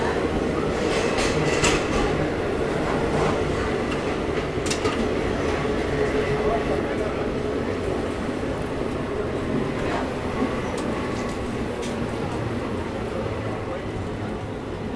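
Pinakini superfast express train pulling into Bapatla railway station, a steady rumble of wheels and carriages with intermittent clanks, continuous and fairly loud throughout, with people talking over it.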